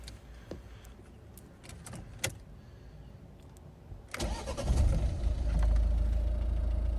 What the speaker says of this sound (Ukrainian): покажемо, як легко і гарно заводиться автомобіль